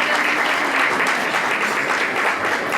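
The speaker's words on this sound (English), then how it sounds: "Let's give them a big round of applause." Sustained applause from a large audience at a Diwali community celebration, steady and loud with no gaps.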